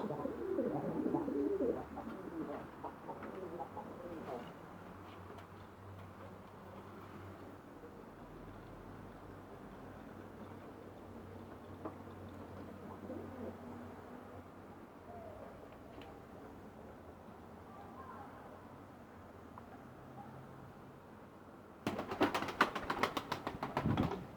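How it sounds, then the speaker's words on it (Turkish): Pigeons let out into the sun coo softly in the background, low murmuring calls running on through quiet ambient noise, with a burst of louder fluttering and rustling at the end. "Egemen'in yüzde kuşlarını biraz havalandıralım dedik."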